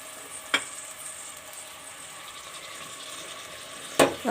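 Vegetables with spices fry in a pan with a soft steady sizzle, broken by two sharp utensil clanks against the pan as they are stirred.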